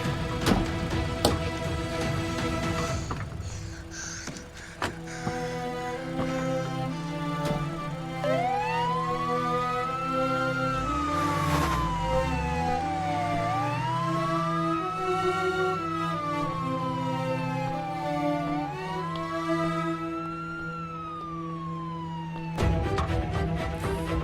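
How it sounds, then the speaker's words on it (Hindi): An ambulance siren from a dubbed Turkish drama wails in slow rising and falling sweeps, loud and steady over a continuous backdrop of music and traffic. "अगर वो तुम्हारे साथ गई तो मैं इस एम्बुलेंस को चला दूंगा।"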